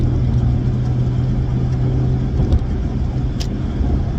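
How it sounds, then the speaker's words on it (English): A car drives along a road, its steady mid-range engine rumble and tyre noise continuous and fairly close, with a faint passing swell near the middle. "is this car gonna let me over?"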